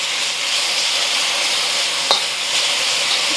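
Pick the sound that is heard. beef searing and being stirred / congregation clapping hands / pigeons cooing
beef searing and being stirred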